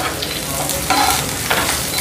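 Onion pieces frying in hot oil with cumin seeds, a steady close sizzle with stirring scrapes for an Indian cauliflower, potato and capsicum sabji, with no talk over it.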